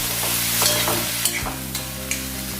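Chopped tomatoes fry in hot oil in a pan for a Marathi methi and pigeon pea dish, a steady close sizzle with a few stirring clatters and no talk.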